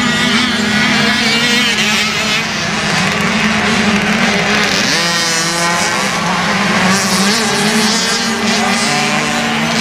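Small 50cc junior motorbikes for riders aged 7 to 9 racing in a championship round at Cessnock, a loud, continuous buzz of high-revving two-stroke engines packed together close by.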